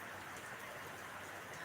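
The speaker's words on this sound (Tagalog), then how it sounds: "Malakas ang ulan." Heavy rain pouring down in Rodriguez, Rizal, a soft, even hiss of falling water that is faint and steady for the whole short stretch, with no voices.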